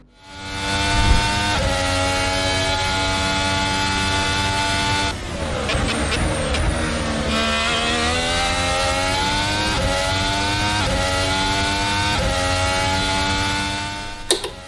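Race car engine on a hot lap of the Austrian Grand Prix circuit, a loud sustained high-pitched roar with rising gear sweeps and brief dips at shifts, close and continuous.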